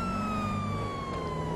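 A steady electronic ambulance siren in the video game GTA 5 wails continuously over a low engine rumble, sounding fairly close and clean.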